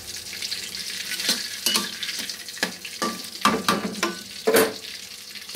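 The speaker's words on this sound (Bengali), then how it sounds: "এদিকে পেঁয়াজ ভাজে নিলাম মাছের জন্য" Onions sizzling in a frying pan while being cooked for a fish curry, a steady hiss punctuated by repeated scraping stirs and light pan knocks, close and alone with no voices.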